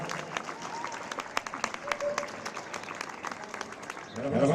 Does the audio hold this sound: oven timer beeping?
no